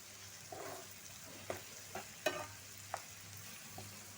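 Curry leaves frying in oil in a pan, with garlic to follow, give a soft steady sizzle broken by a few sharp stirring clacks and pops, moderately faint and with no talking.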